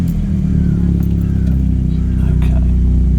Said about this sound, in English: We're going to switch the engine on because it's moaning about low voltage.